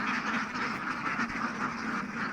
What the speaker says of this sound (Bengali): আর অনেক হাঁস রয়েছে নদীর মধ্যে।